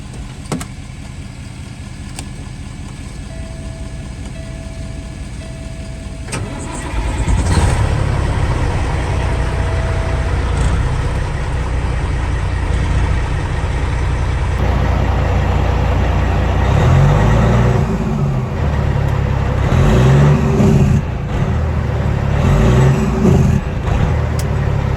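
A diesel semi truck with 180,000 miles on a platinum engine rebuild cranks over, fires up and settles into a loud, steady idle close by, with a deep continuous rumble and some hissing and clunks.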